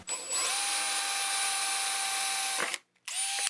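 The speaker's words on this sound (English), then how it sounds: "We're just going to drill straight through the center of the cap" A power drill whines at high speed, drilling through the center of an end cap, steady and loud, then stops briefly and spins up again for a short final burst.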